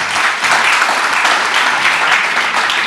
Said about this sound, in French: Je pense qu'on peut l'applaudir, parce que c'est très bien.